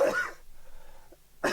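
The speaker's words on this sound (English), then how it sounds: "because I've been coughing a lot" A person coughs hard at the start, followed by a quiet pause with faint background hum, then a second loud cough burst at the end; close and loud, no talking.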